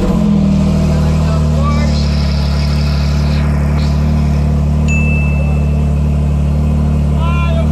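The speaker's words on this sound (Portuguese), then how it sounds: "vou ligando a Porsche" A Porsche engine runs at a steady, loud idle close by, with a deep continuous hum throughout, while a person talks over it.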